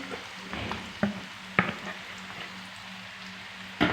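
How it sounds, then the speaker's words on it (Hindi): Gram-flour-coated okra sizzles as it fries in hot ghee, a soft continuous frying hiss punctuated by several sharp clinks and stirring knocks, close by. "अब हम इसमें जो भिंडी बेसन लगा के रखी हुई थी वो हम डालेंगे।"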